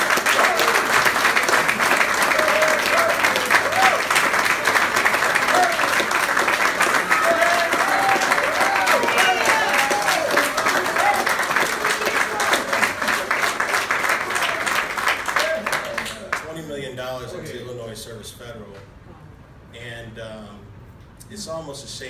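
Sustained applause from an audience at a city event announcing a $20 million deposit into Chicago's last Black-owned bank, loud and steady for about sixteen seconds before thinning out and fading, with voices and a few cheers mixed in.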